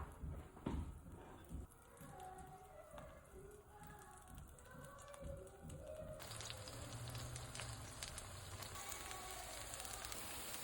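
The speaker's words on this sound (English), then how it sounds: "I'll be putting inside my salted butter. Now let's fry." Sweet potato pancakes frying in salted butter in a pan, a soft crackle early on that swells into a steady, fuller sizzle for the second half.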